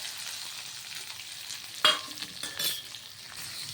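Chopped onion and green chillies frying in a pan for bitter gourd curry, a steady quiet sizzle with a couple of sharper scraping stirs partway through.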